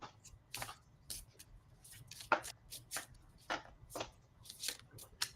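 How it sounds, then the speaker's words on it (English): Repeated crisp riffling and slapping of tarot cards being shuffled, close up, in irregular bursts over a quiet background. "And I am shuffling."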